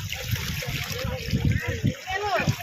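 Sea waves washing and splashing at a large seashore, a steady watery wash with surges, heard beneath someone talking in Hindi close by.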